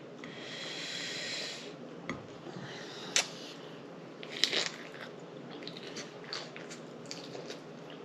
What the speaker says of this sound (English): I want a bite from this end.